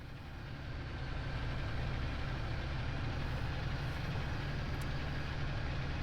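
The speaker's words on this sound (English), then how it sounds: "this is a powerful tractor and it's really, really struggling" A powerful tractor engine laboring under heavy load in a farm simulator game, a continuous deep droning roar that holds steady and fairly loud throughout with no pauses.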